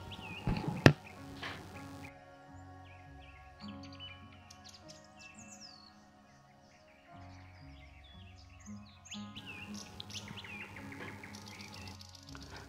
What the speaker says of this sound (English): The songs of the birds will forever be a reminder of the wonder and majesty of the natural world.